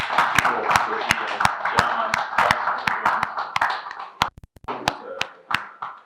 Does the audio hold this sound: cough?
no